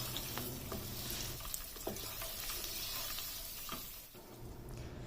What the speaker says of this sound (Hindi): अब इन तीनों चीज़ों को घी में हल्का सा फ्राई कर लेना है